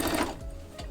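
A brief burst of a sewing machine stitching pant legs cut from a curtain, a short motor whir that stops within a second.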